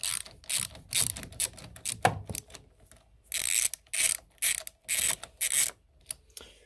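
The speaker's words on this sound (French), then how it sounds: "il va me falloir une clé de 10 pour venir desserrer le pôle négatif de la batterie" A ratchet wrench with a 10 mm socket loosens the negative battery terminal on a Peugeot 208 GTi, a close, loud series of rapid clicking bursts with short pauses between strokes.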